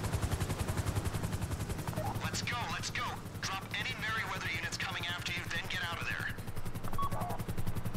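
An attack helicopter fires in the online game GTA Online, making loud rapid bursts of machine-gun fire that run without a break, with a voice heard over part of it.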